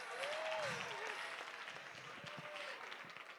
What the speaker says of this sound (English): Please give my husband a round of applause.